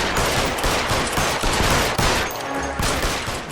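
Rapid gunfire in the LA Noire video game, a dense continuous fusillade of close, loud shots with several sharper bursts standing out against a roaring background.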